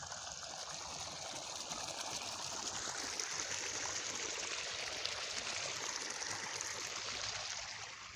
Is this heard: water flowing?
yes